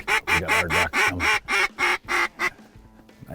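Ducks quack repeatedly in a rapid, loud series of about eight calls as they fly in over a wheat field during a wigeon hunt, then fade toward the end.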